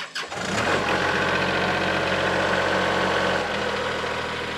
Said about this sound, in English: What you can do is just start your tractor.